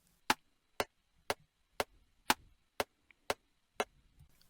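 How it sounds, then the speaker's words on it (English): A metronome clicks steadily, eight sharp evenly spaced ticks about every half second, crisp and dry with quiet gaps between. "It's also often referred to as a click track due to the clicking pulse it makes"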